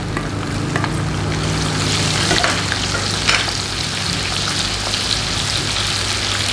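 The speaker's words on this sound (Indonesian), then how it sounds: "Kita tumis bawang merah sampai harum." Shallots stir-fry in a pan for a spicy red-chili beef lung dish, making a loud, dense, close crackle like rain on a surface. A few stirring knocks break through, and there is no talk.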